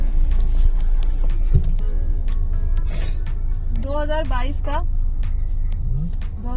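Heavy, jammed road traffic in Dehriya Town, with a dense, steady rumble of engines and vehicles that rises and falls, under constant close talk from people stuck in the jam.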